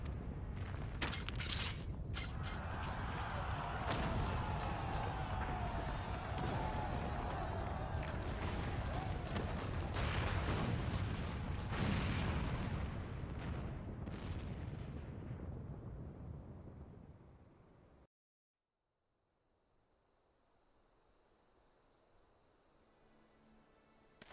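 Collapse of the main tower in Final Fantasy XIV: a long, loud rumbling roar with creaking, crashing debris that builds and sustains, then fades away abruptly into near silence.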